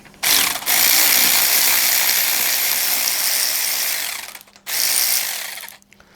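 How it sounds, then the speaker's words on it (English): An AC Delco 1/4 inch electric ratchet whirring loudly and close up in two bursts, a long steady run followed by a shorter one, with brief pauses between them. "AC Delco, 1/4 inch electric ratchet, really."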